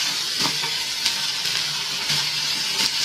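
Chopped tomato hits onions frying in a pan, giving a steady close sizzle with a few soft stirring scrapes and pops over the hiss.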